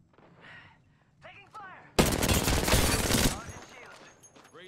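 Heavy gunfire rattles through an Apex Legends firefight, a loud dense burst of shots lasting over a second and breaking in sharply after quieter stretches of voices talking.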